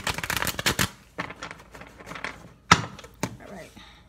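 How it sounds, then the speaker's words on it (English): Tarot cards are shuffled briskly in a fast riffling burst, followed by scattered slaps and taps as the deck is handled nearby. "One more shuffle"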